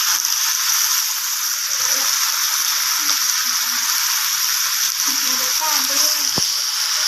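Garlic-scented oil sizzles steadily as Chinese kale is tossed and stir-fried in a hot wok, a constant loud hiss with occasional soft clinks and faint background voices.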